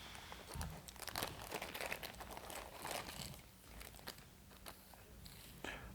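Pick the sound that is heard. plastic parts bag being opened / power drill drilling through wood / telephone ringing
plastic parts bag being opened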